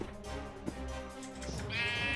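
A sheep in the Minecraft video game bleats, a drawn-out wavering baa that fills most of the moment, followed by a higher, thinner bleat near the end, clear and close with no talk.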